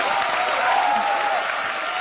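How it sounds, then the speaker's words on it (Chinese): Studio audience applause on a Chinese job-seeking television show, broad clapping that swells and then eases slightly, loud and near, with a faint tonal sound briefly riding over it and no speech. "来，掌声欢迎。"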